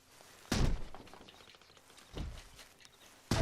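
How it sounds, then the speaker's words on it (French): In Red Dead Redemption 2, Arthur Morgan kicks at a locked cabin door: three heavy, close thuds spaced over a few seconds, each a dull impact with a short rattle, with quiet room tone in between. "Alors, Arthur Morgan essaye de taper dans la porte, mais rien à faire."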